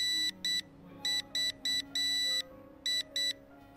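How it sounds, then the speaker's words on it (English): The Nvidia Shield TV remote's finder buzzer gives a series of loud, high-pitched electronic beeps in short bursts of uneven length, separated by brief gaps, close to the microphone. "It'll sound loud enough to beep to help you find the remote."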